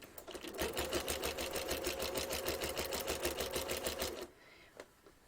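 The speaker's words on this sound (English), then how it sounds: "I am starting to sew down to this line," A sewing machine stitches a quilted Christmas tree skirt in a fast, even run of needle strokes for about four seconds, then stops, leaving a quiet room with a faint click.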